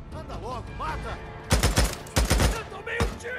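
Gunfire in the video game Days Gone: several loud, sharp bursts of shots in quick clusters, close by, with a voice speaking Portuguese in between.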